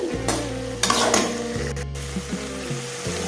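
Sliced onions sautéing in a pan for chickpea kurma, a steady close sizzle with a low background hum and a few brief louder bursts of frying.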